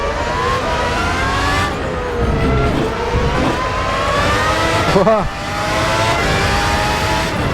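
A 1990s Formula 1 style race car with a V12 engine howls through its gears on the Paul Ricard short circuit in RaceRoom Racing Experience. The engine is loud and close, rising and falling with a sharp downshift near the end, and a voice speaks briefly over it.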